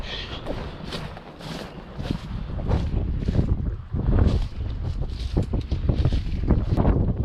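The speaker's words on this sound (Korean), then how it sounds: "유람선이 지나가고 있습니다" A cruise boat passes on the water near an island campsite, its low engine rumble rising and falling beneath heavy gusts of wind buffeting the microphone.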